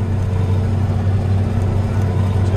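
A 1984 Steiger Panther III tractor harrowing a field, its engine a loud, steady low rumble that holds constant throughout with no voices.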